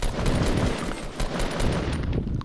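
Rapid automatic gunfire in Fortnite, a dense unbroken burst of loud close shots rattling for a couple of seconds with no talk.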